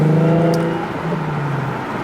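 A Nissan 370Z fitted with a Z1 Motorsports longtube intake drones steadily while driving, a loud close cabin engine tone that sags slightly in pitch as the revs ease.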